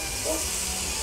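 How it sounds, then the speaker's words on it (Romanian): Onion dropped into browned pork fat in a hot pan, giving a loud continuous hiss and sizzle that holds steady throughout. "Și acum o să adaug ceapa."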